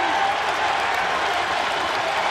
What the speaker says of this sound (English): Ace Baldwin's getting the crowd going.